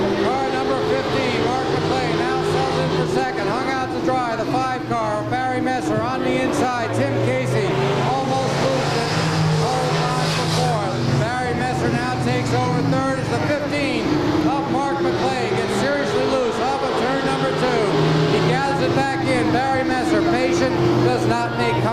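Race cars roar around Claremont Speedway at weekly racing in 1996, their engines droning continuously beneath loud, constant commentary from an announcer.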